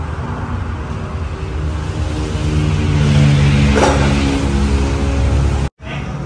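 A Ford Raptor engine revving after a new exhaust system is fitted, a loud, steady throaty roar that swells and holds, then cuts off abruptly for a moment before resuming.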